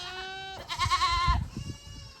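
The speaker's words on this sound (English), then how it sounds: "There's some goats in the mist." Goats on a farm bleating close by, one long wavering bleat followed by shuffling and rustling movement, with no voices.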